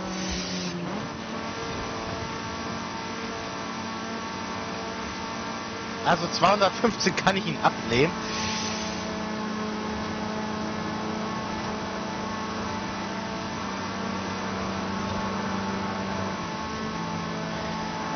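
A 2016 Mazda MX-5 ND engine at high speed in fifth gear, heard from inside the car as a loud, steady drone that lasts throughout, with someone speaking briefly partway through.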